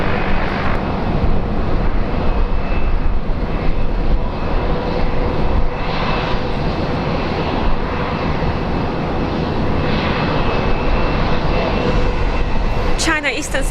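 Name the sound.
jet airliner taking off at Brisbane airport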